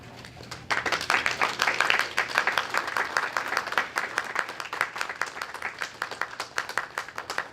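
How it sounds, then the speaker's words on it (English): Audience applause follows a staged reading at a film festival, a steady, dense round of clapping lasting several seconds before tapering slightly. "so let's have another round of applause for Tyler."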